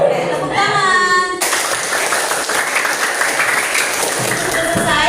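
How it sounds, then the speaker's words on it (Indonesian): A classroom of pupils claps their hands together, a steady, loud burst of applause that lasts throughout, following a brief chime at the start and with faint voices underneath. "tepuk tangan"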